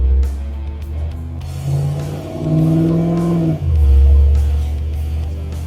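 LS-swapped 1983 Jeep Scrambler with no sound deadening, its V8 loud and close as it drives off and revs, the engine note rising and climbing before settling into a deep, heavy rumble.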